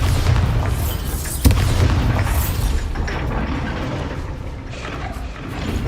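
A Bombarda blasting spell goes off in a Harry Potter video game, a deep booming burst with a sharp hit near the start over a dense, rumbling layer of game sound and score.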